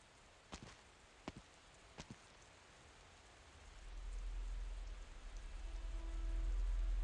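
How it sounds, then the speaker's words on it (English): Rain falls at midnight in the video game Arknights, a soft steady hiss with a few sharp drops or taps early on, then a low rumbling swell building toward the end. "Midnight and rainy."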